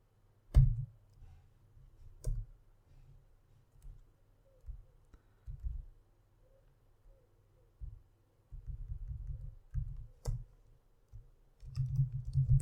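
Clicks of a computer keyboard as a Power Query M formula is typed, scattered soft taps in short bursts and a longer run of keystrokes near the end, fairly quiet and close, with no voices.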